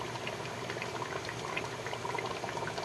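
Bagoong shrimp paste boiling hard in cooking oil, a quiet continuous bubbling and sizzling that holds steady throughout with no talking.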